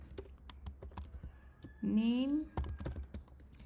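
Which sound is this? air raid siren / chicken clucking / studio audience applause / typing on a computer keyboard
typing on a computer keyboard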